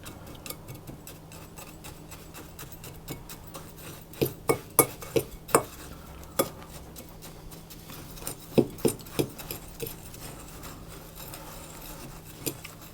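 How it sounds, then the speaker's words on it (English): A fork stirring a brown sugar mixture in a bowl gives close, crisp clinks and taps in two short clustered runs over a quiet background. "I'm going to stir those around to get those mixed together"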